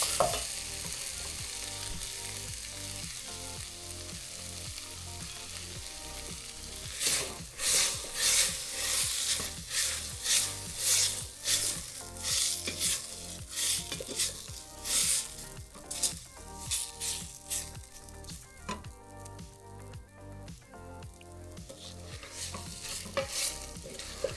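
Tomato sauce and tomato paste cook in a pan, with a low sizzle under repeated rhythmic stirring and scraping strokes that grow busy in the middle of the clip, with no talking.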